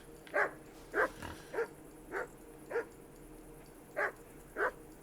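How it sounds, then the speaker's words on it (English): A dog in the medieval game Kingdom Come Deliverance barks seven times in an evenly spaced series, moderately near, over a low ambient background. "Where was that dog?"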